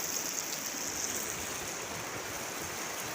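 Steady broadband rush of flowing water from the muddy Ciberem River running continuously nearby, with no voices.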